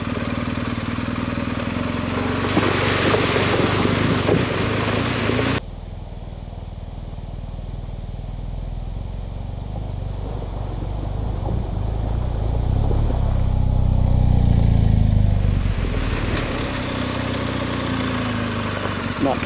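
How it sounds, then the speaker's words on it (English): An adventure motorcycle rumbles at low speed through a creek water crossing on a dirt road, its engine note swelling as it pushes through, with wind and riding noise around it. "crossing, water crossing."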